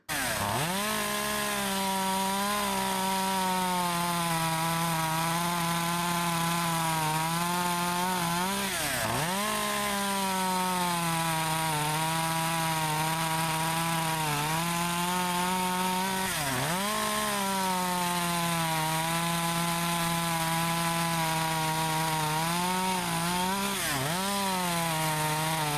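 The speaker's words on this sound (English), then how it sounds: "So now we're going to go on and try out the CS2511T and do some cookie cutting with it." An Echo CS2511T chainsaw cuts cookies off a wood log, engine screaming loudly and steadily, with three brief dips in pitch where it bogs into the cut and then recovers. The sound is close and continuous, with no voices.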